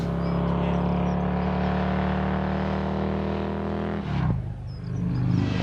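A 1950s British motorbike engine revs loudly and steadily close by for about four seconds, then dips briefly and picks up again, with no talk.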